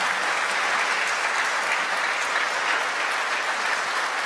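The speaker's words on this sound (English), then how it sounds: "Extra round of applause for the Angular team." Sustained applause from a conference audience at an Angular developer event in Berlin, a dense steady clatter of many hands clapping at even loudness throughout, with no talk over it.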